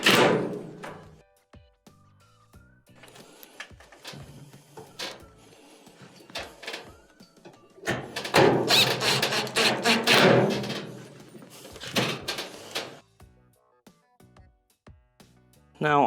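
Dryer panels clipped back into place and screws reinstalled, heard as a scattered series of close thunks, clicks and plastic snaps with quieter gaps between them, plus a longer rattling stretch in the middle.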